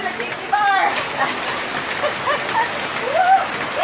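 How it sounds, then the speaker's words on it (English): Heavy rain pours down during Tropical Storm Darby at a tiki bar, a loud, dense, continuous patter and splash with some faint background voices beneath it. "It's just a little bit of rain."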